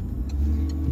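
A car engine hums steadily at low revs during a driving lesson, a continuous near rumble with no voices.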